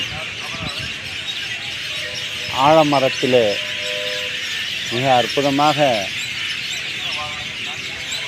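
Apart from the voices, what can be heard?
flock of birds calling at dusk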